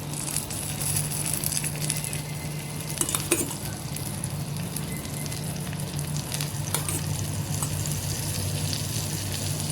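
Oil sizzling steadily in a pan as chillies and garlic fry, a continuous crackle with occasional stirring clinks, close and moderately quiet, no voices.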